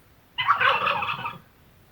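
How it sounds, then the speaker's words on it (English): A turkey lets out a single rapid, rattling gobble lasting about a second, clear and close with no other sound around it. "A turkey sounds like this."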